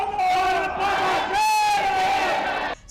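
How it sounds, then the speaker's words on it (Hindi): A large crowd cheers and chants together with loud, sustained voices, welcoming Prime Minister Modi on his arrival in Tokyo, Japan; the roar stays steady for nearly three seconds before cutting off. "सड़कों पर उमड़ी भीड़, हाथों में तिरंगे और हर ओर बस एक ही नाम की जयकारी"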